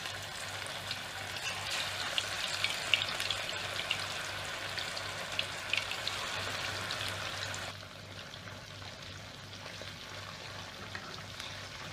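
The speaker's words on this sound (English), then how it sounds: "Now I am going to add the kebabs and fry them till they turn golden brown in color." Kebabs sizzle and bubble in hot oil, a steady close crackling fry that drops slightly quieter partway through and carries on alone.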